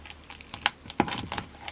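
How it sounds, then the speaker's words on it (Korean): Plastic shrink wrap is peeled and crinkled off K-pop albums during an unboxing, heard as soft close crackles and sharp ticking snaps in an uneven run, with no talking. "아 여러분 까기가 힘들어. 이 비닐들."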